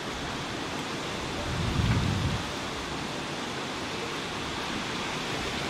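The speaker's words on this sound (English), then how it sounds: "Rain is literally thrashing it down." Steady, dense hiss of heavy rain pouring down, with a brief low rumble swelling in the middle; no voices.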